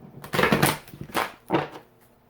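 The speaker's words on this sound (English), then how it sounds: "I'm going to shuffle and pull from the messages from your Angels deck" A deck of angel message cards is shuffled in three quick rustling, riffling bursts, close and fairly loud, with short pauses between them.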